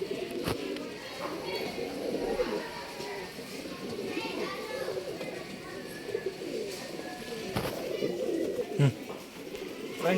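Male and female pigeons coo softly and continuously in the background while a person talks over them. Children are faintly audible now and then.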